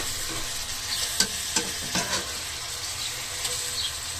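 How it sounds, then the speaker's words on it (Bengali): Chicken pieces are stirred and mixed with spices for a home-style chicken roast, giving a low, soft sizzle. A handful of light scraping stirs fall at irregular intervals, close but quiet, and no one speaks. "এখানে দিয়ে দিচ্ছি আমি রান্নার পিসগুলো। তো মশলার সাথে ভালোভাবে মিক্স করে নেব আমরা।"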